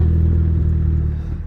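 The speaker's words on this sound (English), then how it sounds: "exhaust is definitely getting worse." A Bentley T1 with a worsening exhaust drones loudly while driving, a steady low rumble of engine and exhaust close by.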